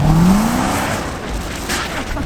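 A 510-horsepower Mustang running summer tires drifts through a snowy blizzard. The engine roars loud and close, and a rising tire squeal comes early before the sound eases into a steady rumble.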